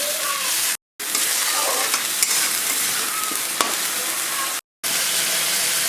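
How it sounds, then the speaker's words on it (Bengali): Ginger paste and spices for a skate fish curry sizzle in a hot pan, a constant close frying hiss broken by stirring scrapes, with two brief silent gaps. "এবার দিয়ে দিচ্ছি আদা বাটা ভালো করে মশলাটা একটু কষিয়ে নিই"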